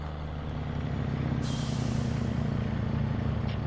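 A 1,000 horsepower semi truck engine in Farming Simulator 17 rumbles at a steady low drone with a brief hiss of air partway through, loud and continuous, no voices.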